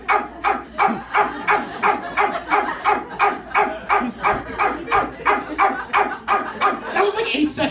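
A man on a comedy stage imitates a dog barking all day, producing a steady run of about fifteen loud, rhythmic vocal woofs in quick succession, close and continuous for several seconds.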